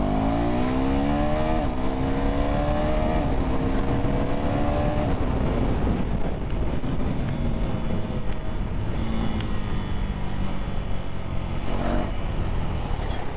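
A KTM Duke 390 motorcycle with a quick shifter accelerates hard, its loud engine note climbing steadily in pitch through quick gear shifts, close and continuous with no talking.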